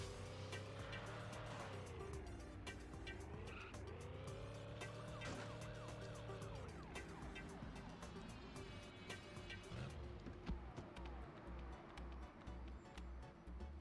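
A police car siren in the Stuart Little 3: Big Photo Adventure video game wails in rising and falling sweeps over steady engine-like game audio, loud and continuous throughout.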